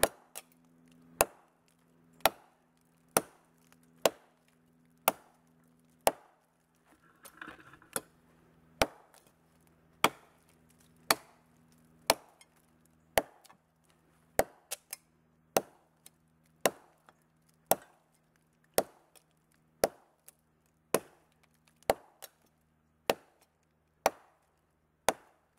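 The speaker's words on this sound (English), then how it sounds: "You have the sound hitting hardwood." A Niolox Chopper axe strikes dead fall eucalyptus hardwood in sharp, regularly spaced chops, about one every second, each a crisp loud knock over quiet background.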